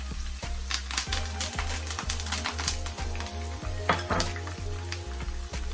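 Scallion, Scotch bonnet pepper and sweet pepper sizzle in a hot pan while being stirred, with a crisp frying hiss broken by repeated sharp utensil clicks and scrapes against the pan at an uneven rhythm.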